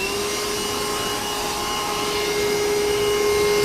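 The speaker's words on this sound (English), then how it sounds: "I'm going to take this opportunity to go in there, vacuum everything out" A vacuum cleaner runs steadily and loudly, sucking debris out of the interior of a Subaru BRZ. It gives an unbroken whine with a constant tone and no voices.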